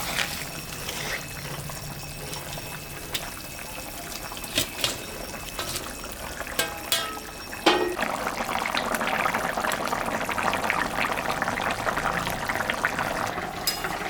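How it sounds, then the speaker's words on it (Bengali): Fish curry broth comes to a boil in a pot, with a few sharp clatters early on before a steady, fairly close bubbling and simmering takes over for the rest. "ঝোলটা ফুটে গেছে, এখন আমি মাছটা দিয়ে দিই"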